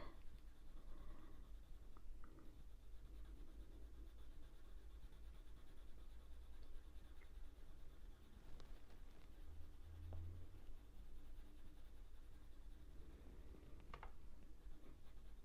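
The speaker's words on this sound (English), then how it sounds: "I'm just doing short marks with the pencil." A pencil makes quick short strokes on paper while shading the fur of a hare drawing, a steady soft scratchy rustle that continues close by for the whole stretch with no talk.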